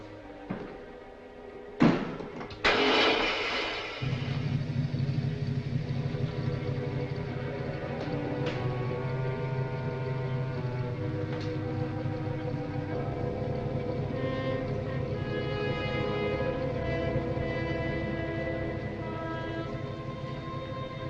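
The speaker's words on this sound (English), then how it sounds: "Start the motor." A couple of sharp knocks or a slam, then a motor starts and settles into a steady, low droning hum that runs on evenly for most of the clip at moderate level, with no talk.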